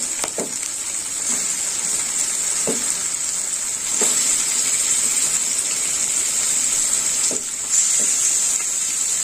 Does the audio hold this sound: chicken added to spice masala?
yes